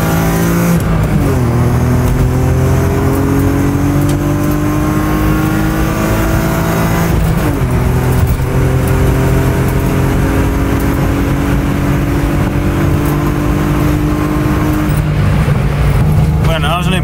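A BMW with a reinforced chassis on a test drive, its engine holding a loud steady drone with rising revs as it accelerates through gear changes, continuous and close throughout.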